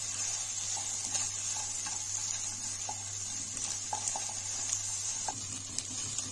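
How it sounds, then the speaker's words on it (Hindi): Onion and capsicum fry in an oiled pan for chicken jalfrezi, giving a steady, close sizzle with faint scattered ticks and clicks from stirring, under a low constant hum and with no talking. "प्याज और शिमला मिर्च को हमने 2 मिनट के लिए फ्राई कर लेना है"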